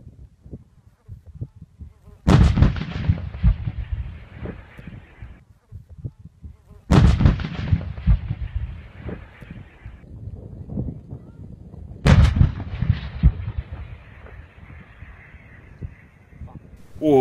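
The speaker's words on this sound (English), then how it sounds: "Now it was time for the M777 Howitzer live fire demonstration." An M777 155mm towed howitzer fires three live rounds during a military demonstration. Each round is a loud, sharp blast followed by a long rumbling decay, and the shots come about five seconds apart, outdoors.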